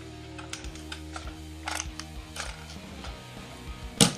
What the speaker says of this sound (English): this ratchet feeling and the noise it feels like it could break